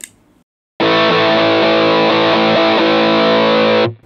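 A heavily distorted electric guitar through a Sinvertek Drive N5 plus distortion pedal, knobs set at midpoint, rings out suddenly, sustaining a thick, buzzing chord for about three seconds before cutting off.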